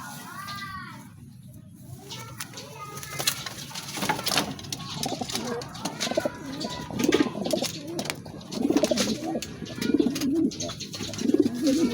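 Several pigeons, including a white one, coo in soft, throaty rolling calls, repeated and growing louder toward the end, with children's voices and other bird noises in the background.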